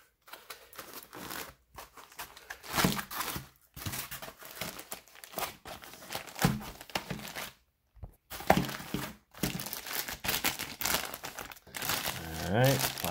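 Folded packing papers from a Lenovo Flex 5 laptop box crinkle and rustle up close in loud, repeated bursts of crumpling, broken by a few brief pauses.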